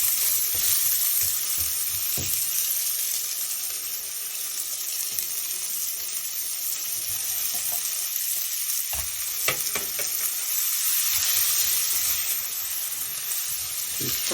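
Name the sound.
purple onions frying in oil while being stirred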